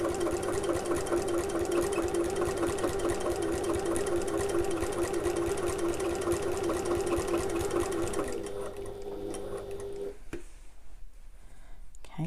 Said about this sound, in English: I'm just going to sew all the way around the outside of this sewn edge of the flap.